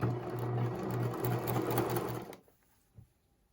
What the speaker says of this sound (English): Now I'm going to just top stitch along here to stop my lace